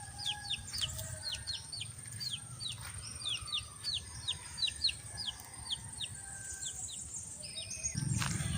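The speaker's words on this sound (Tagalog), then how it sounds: "Ayan, yung mga sisiw na yan." Rapid, repeated high-pitched peeping of chicks, many short chirps in quick succession, with a low rustling noise beneath.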